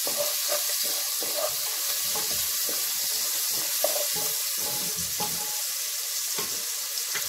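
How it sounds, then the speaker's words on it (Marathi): Curry leaves drop into hot oil with onions fried pale pink for a Konkani-style val bean khichdi, giving a loud, steady crackling sizzle with small pops throughout. "आता त्यामध्ये मी हा कढीपत्ता टाकतेय"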